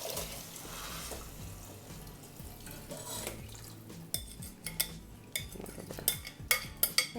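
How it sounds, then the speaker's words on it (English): Water pours into a pot of rice with chorizo, followed by a spoon stirring and clinking against the metal, the scrapes growing louder toward the end. "I'm gonna go ahead and add the 4 cups of water."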